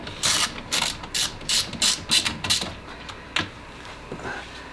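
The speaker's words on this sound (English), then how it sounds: "So I'll just take this off real quick." Quick bursts of ratcheting clicks from a ratchet wrench loosening two small 8mm bolts, close and fairly loud, in several short runs with brief pauses between them.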